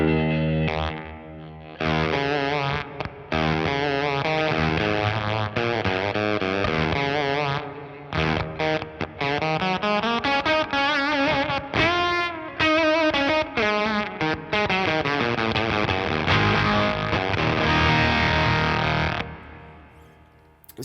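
An electric guitar roars through a Kraken distortion pedal, a thick, intense and saturated tone with chords and riffs played continuously and loud, ringing out and fading at the end.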